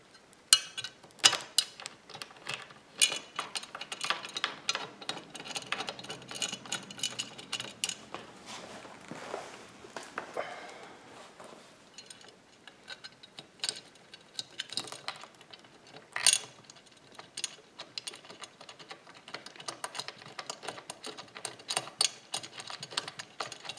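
Small screw and washer being driven in by hand while assembling a new sofa, giving faint, irregular ratcheting clicks and scraping taps spread through the clip, close by, with no talking.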